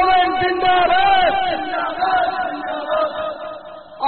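A crowd at a religious gathering answers a takbir slogan call, loud massed voices chanting together in a sustained, wavering roar.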